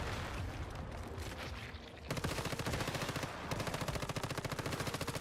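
Rapid automatic gunfire from a weapon in the game Once Human, a loud sustained burst emptying a full magazine, steady rattling shots that grow more distinct and rhythmic in the second half.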